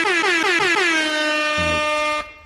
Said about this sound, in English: I've got to give him an air horn for it